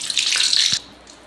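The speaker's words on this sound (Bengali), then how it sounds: "এরকম একটু তেল ঢেলে নিতে হবে।" Cooking oil pours in a steady, close, hissing trickle for under a second, then stops, leaving a quiet moment and a faint clink.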